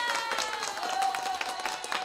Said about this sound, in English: You're getting official applause here